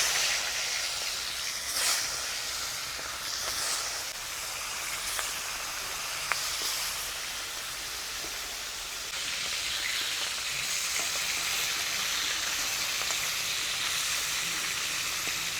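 Pieces of aar fish fry in hot mustard oil in a wok, giving a loud, continuous sizzle and hiss close by that holds steady throughout, with a few faint clicks.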